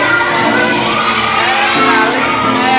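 A classroom of students shouts and cheers loudly for group 5, with children's voices whooping together in a continuous, close crowd roar. Any clapping is lost under the yelling.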